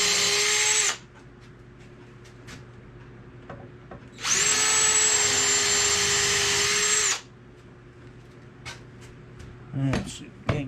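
A power drill whines loudly in two bursts, the first about a second long and the second nearly three seconds, making pilot holes in a wooden spice rack shelf, with quiet handling clicks and knocks between.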